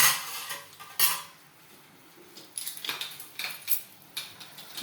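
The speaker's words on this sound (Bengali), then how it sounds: "এখন মাছগুলো দিয়ে দিতে লাগবে।" Katla fish pieces dropped into a simmering curry in a cooking pot, with scattered clinks and knocks of a metal utensil against the pot among soft splashes, close and moderately loud.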